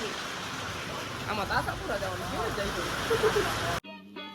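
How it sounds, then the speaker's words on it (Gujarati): Rain falling during a Bullet motorcycle ride home on a highway, a steady broadband wash with wind rush throughout, voices talking over it, before the sound cuts out abruptly near the end. "જતા જતા વરસાદ આવી ગયો"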